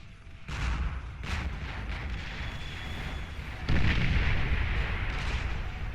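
A heavy explosion hits a Geo building in the strategy game Beyond All Reason, a broad booming burst that rumbles on, then a second heavier blast hits a few seconds later.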